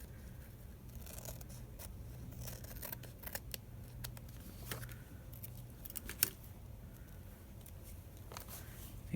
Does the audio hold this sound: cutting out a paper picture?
yes